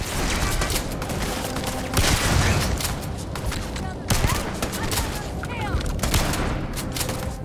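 Rapid bursts of turret gunfire in the sci-fi shooter Starfield, a dense, sustained crackle of shots with sharper volleys near two and four seconds, mixed with game effects and some talk.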